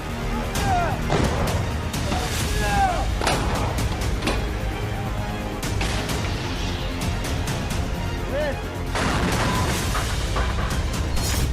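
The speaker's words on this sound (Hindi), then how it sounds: "बारूद बरसाते टैंक," Tanks fire artillery shells in wartime combat, with repeated heavy booms and crashing impacts at irregular intervals over a steady rumble of battle noise.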